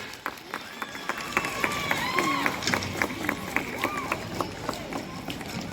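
An audience applauds at a school Republic Day award ceremony, steady sustained clapping from a crowd filling the room, with a voice and some cheering partly heard over it.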